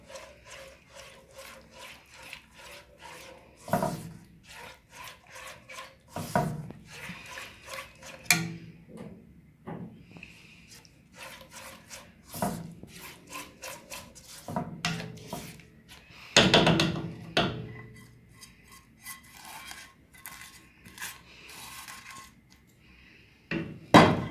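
Besan being stirred into warm sugar syrup in a pan, a steady run of scraping and rubbing strokes with sharper clatters against the pan now and then, close and fairly quiet, with no talk.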